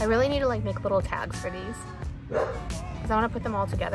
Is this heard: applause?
no